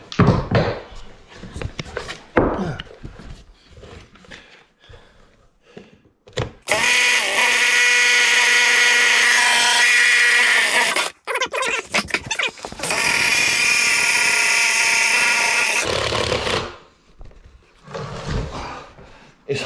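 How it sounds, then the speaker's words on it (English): Power drill boring holes while a bedroom is being rewired, two long loud whining bursts of motor and bit cutting, separated by a brief pause, with handling knocks and clatter before and after. "I had to drill the holes."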